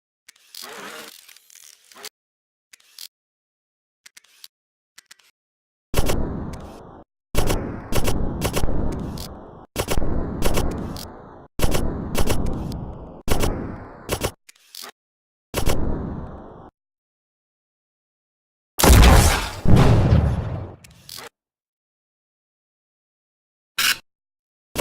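Coil gun firing at targets in the Red Hot Robot Ultrarena video game, a series of loud, evenly spaced sharp bursts in two long runs, separated by silences and ending in a heavier blast.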